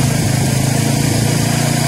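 Suzuki GSX-S125 motorcycle engine runs with its revs held up, a loud close steady buzzing drone with a fast even pulse and no talking.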